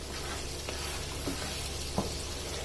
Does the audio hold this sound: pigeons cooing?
no